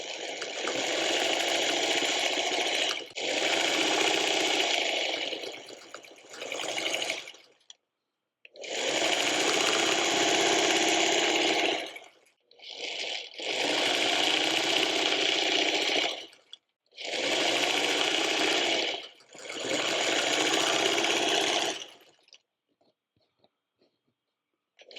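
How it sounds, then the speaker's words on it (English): A sewing machine runs in several long, steady bursts of loud, rapid stitching while quilt block rows are sewn, each run stopping briefly before starting again, close and with no talking. "carry it over to the sewing machine, whatever your preference is."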